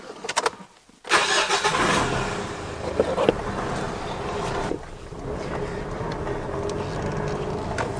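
A car engine rumbles steadily as the vehicle drives along with road and wind noise, after a brief burst of sound at the start.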